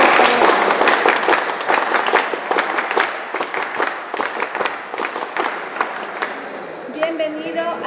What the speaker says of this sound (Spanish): Un voto de aplauso.